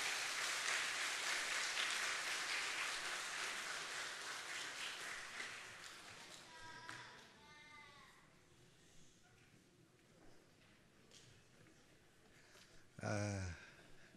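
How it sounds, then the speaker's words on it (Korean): A church congregation applauds at a Korean revival gathering, dense clapping that is loudest at the start and thins over several seconds, after which voices speak and call out over a reverberant hall. "하나님께 영광의 박수 드리겠습니다"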